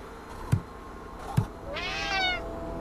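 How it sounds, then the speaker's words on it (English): A cat in the Friday the 13th Killer Puzzle video game gives a drawn-out meow near the end, after two short sharp knocks or taps, fairly faint over a quiet game background. "I do think I need to scare the cat away."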